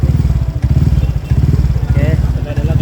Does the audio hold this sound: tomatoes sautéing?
no